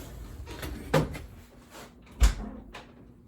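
A rehung hollow core interior door swings and bumps shut, giving two distinct knocks and a lighter tap among quiet creaks, with no talking.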